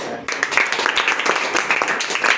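Students clapping at a school presentation event, a dense patter of many close hand claps, fairly loud and sustained, with voices mixed in.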